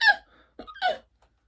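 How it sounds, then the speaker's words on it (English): Two short, squeaky hiccup sounds come close together, performed aloud as part of a children's story reading, with a faint breath between them. "hiccuping with every step."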